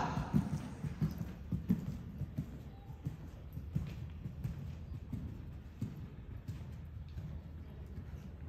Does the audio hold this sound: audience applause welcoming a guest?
no